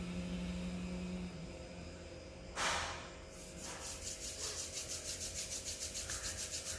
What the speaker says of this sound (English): Rubbing your palms.